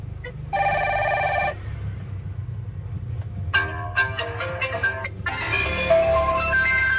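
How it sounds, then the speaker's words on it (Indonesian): A toy educational Qur'an play pad tablet plays electronic telephone ringtones: a short bright ring, a pause, then a run of rapid chirping ring tones, near and clear with no talk. "Suara nada-nada dering telepon."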